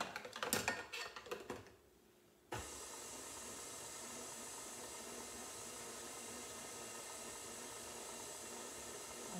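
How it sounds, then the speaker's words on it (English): A stand mixer stirs flour and gluten for bagel dough: clattering clicks and bumps at first, a brief lull, then a steady, even motor drone that runs on alone. "I'm going to put it on my mixer. Lock it in place and start stirring it up."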